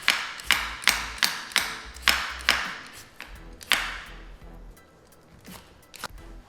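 A knife works the thick skin off a yucca root, striking a cutting board in a quick, regular run of about nine sharp taps, then a few scattered knocks, close and fairly quiet.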